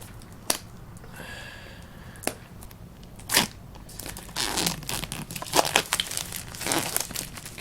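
Packaging of an ELLIPAL Titan Mini hardware wallet being unwrapped: scattered sharp crinkles and tearing, then a denser stretch of crumpling plastic toward the end, close and fairly quiet.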